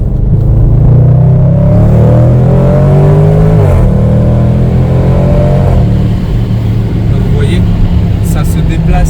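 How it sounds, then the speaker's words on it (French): Range Rover SVR engine revving loudly from inside the car, rising and falling in pitch, with a few faint crackling exhaust pops near the end as someone talks over it. "vous entendez en fait déjà que dès qu'on lève le pied, ça fait énormément de pétarades"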